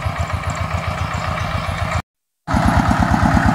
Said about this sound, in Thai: รถไถกำลังขึ้นแล้วนะเหมือนคนกำลังขึ้นค่ะ กำลังไต่ออกมาจากสะพานนะคะ